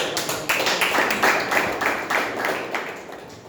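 Audience applause at a Toastmasters club meeting, a small group clapping in a quick patter of distinct hand claps that swells briefly and then tapers off toward the end.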